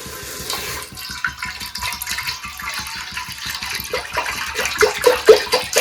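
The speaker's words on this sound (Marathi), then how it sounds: "सुरुवातीला आपल्याला याच्यामध्ये पाणी ओतून घ्यायचंय" Water poured into an old blackened cooking pot set out for cleaning, a close splashing, gurgling flow with choppy pulses that grows a little louder toward the end.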